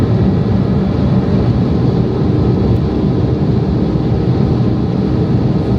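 A Cupra Formentor 2.0L TSI with 190 hp cruises at high speed, a loud, constant roar of engine, tyres and wind heard from inside the cabin, unbroken for the whole stretch.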